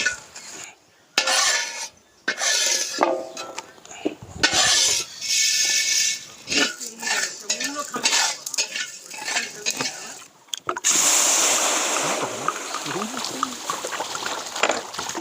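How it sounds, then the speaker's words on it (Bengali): Panch phoron with dried chillies, fennel and coriander seeds fries in a hot wok, intermittent sizzling broken by metal spatula scrapes and stirring clatter, louder bursts between pauses, ending in a steady hiss. "পাঁচফোড়নটা ভেজে নিচ্ছি।"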